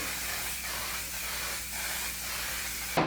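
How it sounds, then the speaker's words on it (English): A steady, continuous hiss of mattifying makeup setting spray runs for a few seconds at close range, ending with a short burst. "is go in with my setting spray"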